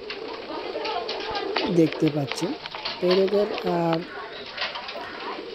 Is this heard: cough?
no